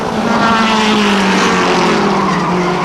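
Stock Mini race car engines roar loudly and continuously, with rising and falling pitch as cars pass, plus a hint of tire noise; one engine sounds unhealthy.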